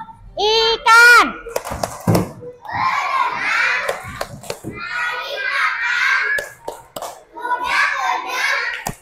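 Children performing a fish-clap chant in a primary classroom: bursts of clapping alternate with children's voices chanting and talking, with sharp hand-clap transients between phrases.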